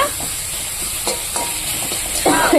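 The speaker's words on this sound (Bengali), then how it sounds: "এখানে আমি দিয়ে দিয়েছি পোড়নে কালো জিরে আর হচ্ছে তেজপাতা" Black cumin and bay leaf tempering sizzle in hot oil as a steady, fairly loud crackling hiss, with a few soft stirring knocks and a brighter burst near the end.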